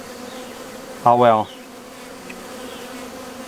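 Honey bees buzz steadily at an open honey-production hive during an inspection, a dense, close, continuous hum, while a voice speaks briefly partway through.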